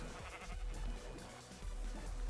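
Sheep bleating in Minecraft, a couple of short nasal bleats standing out over a steady bed of game ambience and low rumble, fairly close and moderately loud, with no talking.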